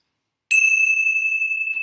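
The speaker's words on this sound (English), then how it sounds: "I'm going to close our time with the ringing of the bells." A single bell is struck once and rings out with a clear, bright, sustained tone that fades slowly, alone after a moment of silence.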